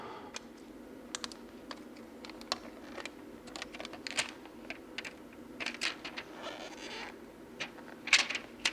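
Protective film peeled off a replacement iPad screen, a faint series of small crackles, ticks and crinkles, irregular and close, with a brief louder rasp near the end.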